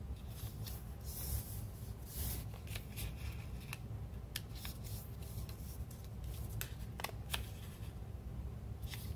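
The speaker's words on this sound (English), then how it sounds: "Fold all of the corners of the paper" A sheet of paper has its corners folded toward the middle, with close, soft crinkles, rustles and sharp crease clicks in an irregular rhythm.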